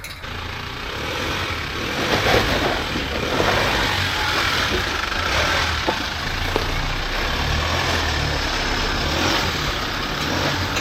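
A Toyota Landcruiser 79 four-cylinder on 35-inch tyres cruises the highway at about 90 km/h, its engine drone and road roar filling the cabin steadily and fairly loud with no break.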